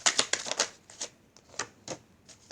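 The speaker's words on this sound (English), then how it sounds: "One more shuffle where I take the top card" Tarot cards being shuffled by hand: a quick run of crisp riffling and slapping bursts, close and fairly loud, with no talking.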